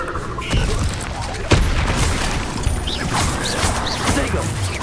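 Incendio fire spell cast in the Hogwarts Legacy video game, a loud burst with a sharp impact and roaring crackle over dense game combat noise and music, with a voice calling out.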